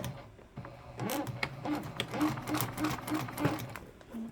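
A sewing machine stitches a quarter-inch seam on a Heartbreaker bag, its needle whirring in a steady close run of rapid clicks that slows briefly mid-stitch, with a voice talking faintly over it.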